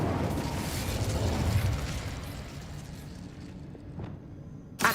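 An Incendio fire spell erupts in Hogwarts Legacy with a dense roaring whoosh and low rumble that swells then fades over several seconds, ending in a sharp closing pop.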